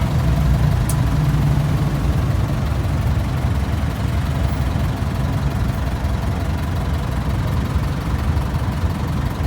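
Low, steady rumble of several vehicle engines idling close by in a traffic jam, a continuous drone with no pauses and occasional faint higher noise.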